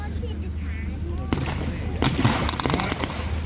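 Gunfire crackles at a WWII reenactment during a Tiger tank day at Bovington as Germans take fire, with scattered sharp reports and bursts over a constant low rumble, mostly at a distance.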